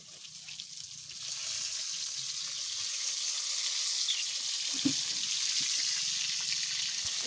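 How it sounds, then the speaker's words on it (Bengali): Pieces of tuna fry in hot oil, making a steady, fairly soft hiss and crackle that swells slightly after the first second and carries on alone, with no voices. "বন্ধুরা দেখো আমি মাছ ভাজ দিচ্ছি, এই মাছের পিসগুলো দেখো।"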